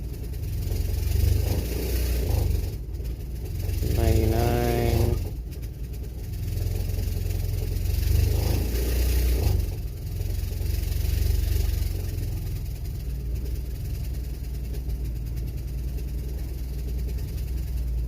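A 2007 Honda CR-V with a stalling problem runs with a steady low engine and exhaust rumble, a brief tonal whine rising near the middle, then a continued even drone.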